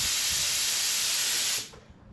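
Spray gun laying Mipa 4+1 high build primer onto a damaged Volkswagen Golf R, a loud, steady, close airy hiss that cuts off sharply near the end, leaving a quiet tail.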